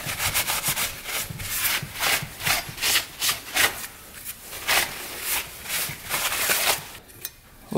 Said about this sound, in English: Just kind of rough up the surface here.